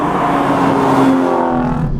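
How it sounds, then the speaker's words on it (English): A powerful Aston Martin V12 Vantage S engine drones loudly and close by, its titanium exhaust giving a smooth, high-pitched note that holds steady, then eases off slightly. "It also makes one of the best noises on the planet, and that is thanks to an extraordinary titanium exhaust"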